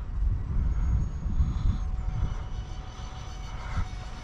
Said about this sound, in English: Let me do a low flyby.